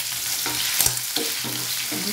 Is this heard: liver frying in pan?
yes